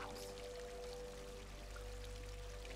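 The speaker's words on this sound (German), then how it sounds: "Ah, jetzt kommt das Wasser schon." In a horror video game, water pours in a steady, faint rushing stream over low background hum, with no talk.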